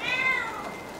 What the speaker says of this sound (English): I even bought a cat.